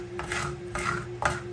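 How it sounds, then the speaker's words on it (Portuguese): A utensil scraping and clinking against a bowl while stirring egg whites for creamy eggs, three rhythmic strokes close up with a steady background hum. "vou mexendo primeiro as claras"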